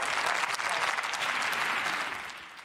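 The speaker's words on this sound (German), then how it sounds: "Armin Laschet bekommt hier fraktionsübergreifend Applaus für seine Rede." Applause from across the parliamentary groups in the German Bundestag follows a speech by Armin Laschet. Dense, even clapping fills the chamber at moderate volume and tapers off toward the end.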